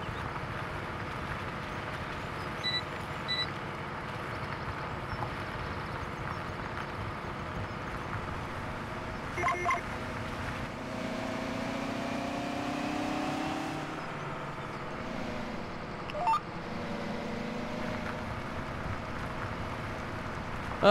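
A tractor plowing a field in Farming Simulator 17 on a Texas map, a steady low engine drone that holds constant throughout with faint mechanical clanks, heard without speech.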